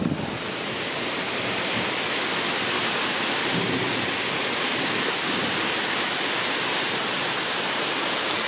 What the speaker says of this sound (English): Oh boy, that's a storm.